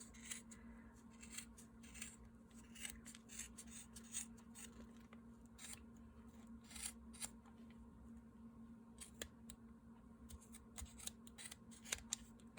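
Scissors snipping through material for a hat, a long run of quiet, irregular close-up cuts and rustles with brief pauses, alone without talk.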